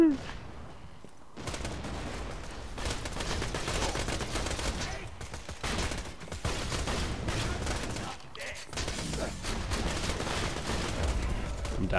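Gunfire in the video game Borderlands 2, dense continuous bursts of shots and impacts filling the whole stretch after a brief quiet start, loud and close, with game sounds layered in.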